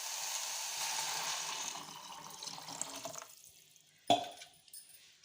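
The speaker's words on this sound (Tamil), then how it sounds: "இப்போ நம்ம தண்ணி ஊற்றிக்கலாம்." Water pours into a pot of chopped vegetables for a ragi soup, a steady close splashing stream that tapers off, then a single sharp clink of metal.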